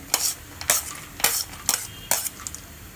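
Cashews, almonds, pistachios and other dry fruits being turned in a pan give five sharp, evenly spaced scrapes and clinks of a spoon against metal, quiet in between, with no talking.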